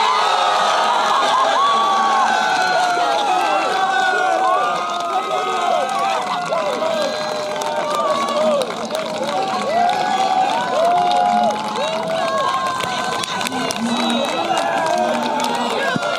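Lively British crowd at a roundnet world championship match, a dense steady wash of many voices cheering, whooping and shouting close by, with children's shouts mixed in and sustained throughout.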